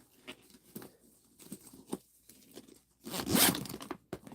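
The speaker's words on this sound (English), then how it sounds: "when you zip up the bag" A handmade sewn bag is zipped closed, with a series of short scratchy zipper pulls followed by a longer, louder rasping zip near the end, heard close up with no talking.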